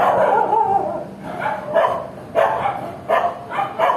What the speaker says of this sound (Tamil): நாய்களால் ஒரே ஒரு தொலை என்னன்னா சத்தம் அவங்க வந்து குலைப்பாங்க